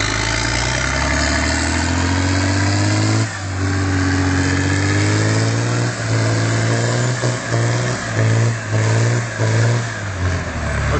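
Volvo BM 800 wheel loader engine running loud and close, a steady rough drone that dips and then surges through a series of rhythmic revs as the machine pulls away.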